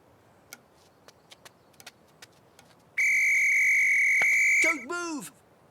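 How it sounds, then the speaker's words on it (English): A loud whistle is blown in one long steady blast of about two seconds, then gives a short wavering tail, following a few scattered soft ticks in a quiet room. "It's lucky I found this whistle."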